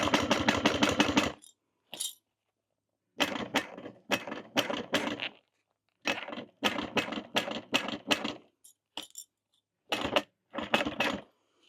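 Sewing machine stitching the exterior of a foam-lined bag in repeated rapid bursts of close mechanical chatter, separated by short pauses and a few single clicks, with nobody talking.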